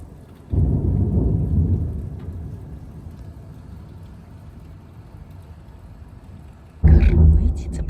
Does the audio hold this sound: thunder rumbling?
yes